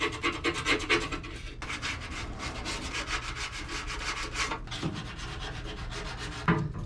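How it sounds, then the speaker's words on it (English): Car bodywork on the front end of an Acura TSX is hand sanded with 120-grit sandpaper, making a steady close rasping rub in long continuous strokes with a few brief pauses. "Right now I'm hitting it with 120 grit."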